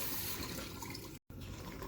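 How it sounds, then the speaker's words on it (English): Continuous splashing stream of two cups of cold water running into a mixing bowl for crepe batter, close and steady, with a momentary cut near the end before it carries on. "we're gonna add in cold water for 2 cups of cold water"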